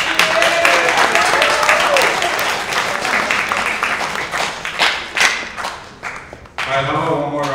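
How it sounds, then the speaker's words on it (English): Audience applause for high school tech campus students fills the room, dense sustained clapping from a crowd that thins out toward the end, with a voice briefly heard over it. "how about one more round of applause for all of our Tech campus students here"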